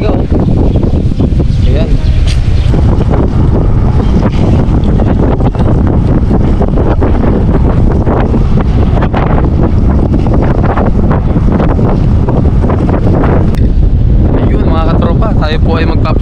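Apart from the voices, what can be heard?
wind blowing at the sea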